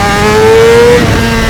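A Honda CBR600RR motorcycle pulls hard under acceleration, its engine note rising as a loud, steady, high-pitched whine close to the listener, with no talking over it.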